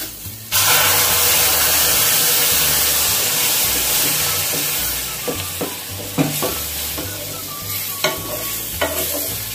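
Boiling water hits hot roasted semolina in a pan with a sudden loud hiss that settles into a steady bubbling sizzle, followed later by a few scraping stirs against the pan.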